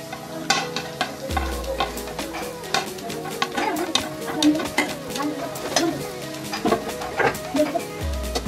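Shredded cabbage hitting a hot pan for momo filling, with a steady sizzle and repeated stirring clatter of utensil on metal throughout, close and moderately loud, under occasional voices.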